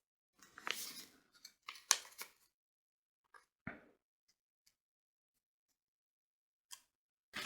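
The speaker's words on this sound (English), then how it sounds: "you're gonna snip all the notches that you see on the pattern" Scissors make a few short, crisp snips as small notches are cut into fabric pattern pieces, quiet isolated cuts separated by pauses, close and alone without talk.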